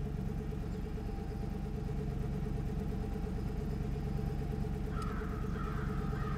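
A truck idling in the Spintires: Mudrunner video game, with a steady low engine hum throughout and a brief higher squeal near the end.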